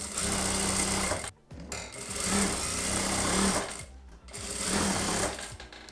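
An overlock serger stitching the hem of a light summer dress, a fast, steady mechanical whir running in bursts with brief stops between them, close and clear.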